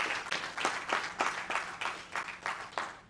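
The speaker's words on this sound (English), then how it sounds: "I think we need a big round of applause for that." Audience members at an induction ceremony clap together in a steady rhythmic beat, about three claps per second, fairly faint and sustained throughout.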